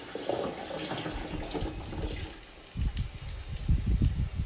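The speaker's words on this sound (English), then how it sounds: "So just add some more water." Tap water running into a container while preserving eggs, a continuous splashing gush that pauses briefly and resumes with louder sloshing and pouring, close by and alone.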